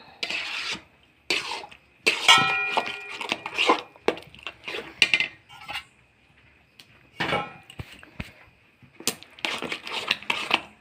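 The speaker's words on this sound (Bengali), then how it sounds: "একভাবে এই আমটা নাড়তে হবে, না নাড়লে তলায় লেগে যাবে।" A spoon scrapes and stirs thick palm fruit pulp with grated coconut in a cooking pot, producing irregular bursts of rasping, scraping strokes separated by short quiet pauses.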